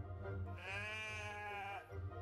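Sheep bleating in the morning, a single long wavering bleat that stands out clearly against a low steady background hum.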